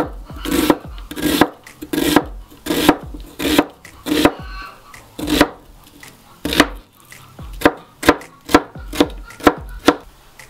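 Rapid steady knife chops through onion on a cutting board as it is diced into medium cubes, loud and close with a regular rhythm that quickens toward the end, with no talking.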